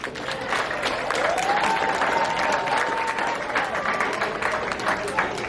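A school audience at an elementary fifth-grade graduation gives dense, sustained applause for about five seconds, with a brief whistle or cheer rising through the middle of the clapping.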